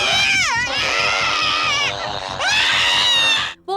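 A drawn-out, over-the-top shriek from Dr. Cutter as the basket monster attacks him in the horror film Basket Case: wavering, swooping wails that repeat and keep going over a steady pulsing beat.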